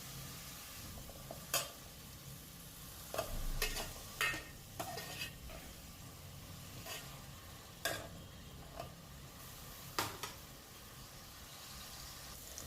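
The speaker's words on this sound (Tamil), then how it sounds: "கடுகு வெந்தயம் போட்டு வெங்காயம் போட்டு வதக்குறேன்." Onions with mustard seeds, fenugreek and green chilies sautéing in a pan, a faint steady sizzle broken by several sharp scrapes and clinks of a spatula stirring, quiet and alone.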